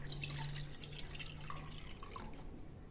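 Water trickles and drips into a vessel while making fennel sharbat, a quiet, faint patter of small splashes over a low steady hum, with no talk.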